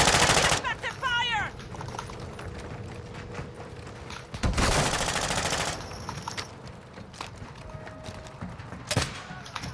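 Video game gunfire from a heated firefight, with dense automatic bursts and sharp shots under game effects, loud and close, with a short burst of talk near the start.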